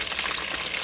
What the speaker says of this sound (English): let this fry for, I'm gonna say 10 minutes or something like that